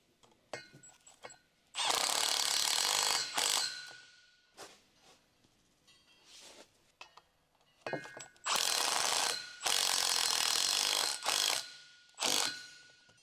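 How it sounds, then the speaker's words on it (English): An electric impact wrench with a 45 Torx bit socket and short extension tightens the drive shaft to rear differential mounting bolts on a Ford Explorer: loud rattling hammering bursts of one to two seconds, separated by quiet pauses and small clinks. "Use a mid-sized 45 Torx bit socket, large to mid adapter, large size, short extension bar with an electric impact wrench to tighten the drive shaft to rear differential mounting bolts."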